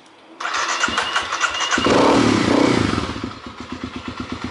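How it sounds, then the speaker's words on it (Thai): A DTX 250 motorcycle with a remote-start alarm cranks with a starter whir, fires up and revs briefly, then settles into a loud, close, steady rhythmic idle. "ใครอยากกดสตาร์ทที่รีโมทก็กดได้เลยนะครับกดตรงนี้นะครับ ปุ๊บสตาร์ทเลย"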